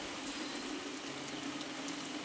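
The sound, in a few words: rain falling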